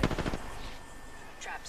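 A quick burst of rapid gunfire in Apex Legends opens the clip, followed by quieter game sound effects and another sharp shot near the end.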